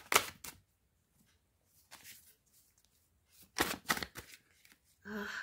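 Tarot cards shuffled in bursts of riffling, with several quick bursts separated by quiet gaps, close and moderately loud, ending in a brief different rustle.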